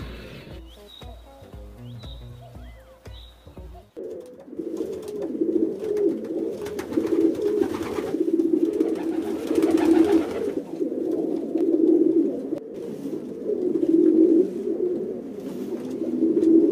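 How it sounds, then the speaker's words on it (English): Pigeons coo in a soft, continuous warble close by, after a few brief chirps and clicks at the start. "It's a pigeon on the train."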